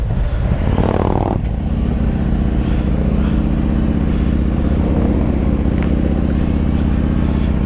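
A 2020 Harley-Davidson Road Glide Special rides near Greenwood Lake, its engine droning loud and steady under heavy rushing wind noise, with a brief rising rev near the start.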